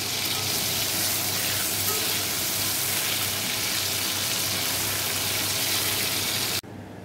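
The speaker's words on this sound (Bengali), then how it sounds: "দেখো চিংড়ি মাছগুলো ভেজে নিচ্ছি।" Prawns frying in hot oil in a kadai: a loud, dense, continuous sizzle held for several seconds that cuts off abruptly near the end, with no talk.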